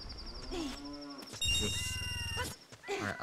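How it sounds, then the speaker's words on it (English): Cow lowing in the Zelda: Ocarina of Time video game, a few low moos alongside game music and tones, moderately loud, no talking. "Alright, I don't want this cow."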